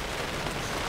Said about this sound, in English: It's raining like crazy and the lightning got super close